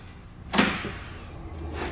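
A fire truck's side entry door, on a Demers MXP150 ambulance-style body, slides or swings shut with a single solid thud and rattle, followed by a faint mechanical hum.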